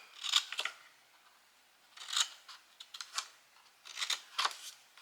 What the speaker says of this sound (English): And then all you're going to do is cut into these sides.